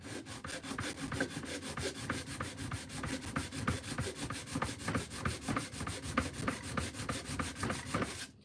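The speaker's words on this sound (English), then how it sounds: "you just take a piece of sandpaper, just like this" Sandpaper rubbed by hand over a tumbler to remove excess super glue, a steady rapid back-and-forth scraping that stays close and loud throughout.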